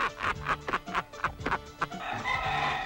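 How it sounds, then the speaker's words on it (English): Rooster crowing and clucking in a 1970s cockfighting film, a string of sharp rhythmic calls close and loud, ending in a longer drawn-out crow. "I got the finest 5-pound chicken alive, Jack. Right here in my hands"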